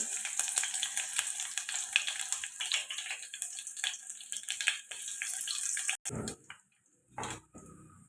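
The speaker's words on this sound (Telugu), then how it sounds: "ఇవి ఇలా ఫ్రై అవుతున్నాయి కదండి" Crushed garlic with cumin sizzling in hot oil in a pan, a steady crackling hiss for about six seconds before breaking off into a few short louder bursts.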